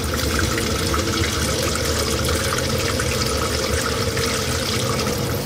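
Water pours steadily into the tank of a portable swamp cooler fan, an even, continuous rushing and splashing with no pauses and no talking.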